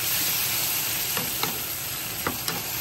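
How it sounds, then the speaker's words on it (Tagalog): Squid marinated in soy sauce sizzles with ginger in a hot pan, giving a steady close crackle with a few scraping stirs on top. "Then, put the ginger and the pusit na minarinate ko siya ng toyo."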